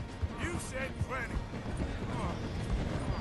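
Horse hooves clatter in a steady galloping clip-clop in Red Dead Redemption 2, close and continuous under voices talking in the game.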